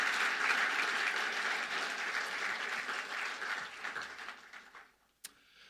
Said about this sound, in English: one more round of applause is in order